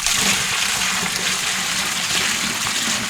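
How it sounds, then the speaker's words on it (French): Water is poured into a rabbit drinking reservoir on a farm, a continuous close gushing and splashing pour at steady loudness throughout, with no voices. "Maintenant, pour l'abreuvage des lapins, nous versons l'eau dans ce réservoir."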